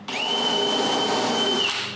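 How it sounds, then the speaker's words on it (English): A power drill bores screw holes in wooden drawers, whining loudly at a steady high pitch for nearly two seconds in one continuous run before winding down. "I drill them"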